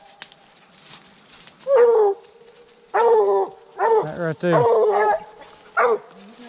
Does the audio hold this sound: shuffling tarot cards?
no